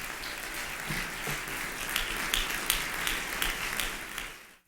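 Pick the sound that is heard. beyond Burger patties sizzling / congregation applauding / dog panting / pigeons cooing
congregation applauding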